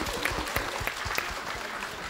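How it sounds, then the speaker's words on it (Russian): A festival audience claps warmly at a New Year fairy-tale stage show, a short burst of many hands with crisp individual claps standing out, fairly close and without talk. "Под ваши добрые аплодисменты."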